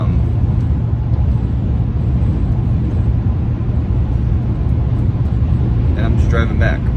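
A car driving along a road, heard from inside as a loud, steady low rumble of engine and tyre noise throughout, with a brief higher rattle near the end.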